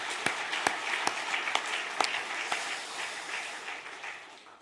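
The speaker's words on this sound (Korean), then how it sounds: "뜨겁게 우리 박수 보내겠습니다" A church congregation at a special early-morning Holy Week service claps, starting with a few sharp, separate claps that merge into brisk, moderately loud applause before tapering off.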